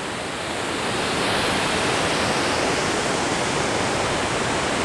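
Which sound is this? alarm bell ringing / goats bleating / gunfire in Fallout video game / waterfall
waterfall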